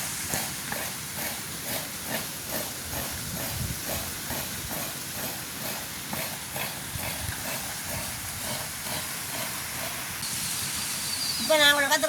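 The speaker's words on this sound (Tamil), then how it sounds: "நல்லா கொளுத்தா நல்லா அடுப்பெரியுது தானே." A wood-fired village stove at a festival roars with a steady hissing, crackling burn and rhythmic pulsing, close and continuous, rising slightly louder toward the end.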